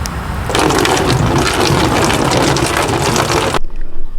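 Coolant and vinegar flush water draining out of a Kawasaki Vulcan S 650 motorcycle radiator, a steady loud splashing pour lasting about three seconds before it cuts off abruptly.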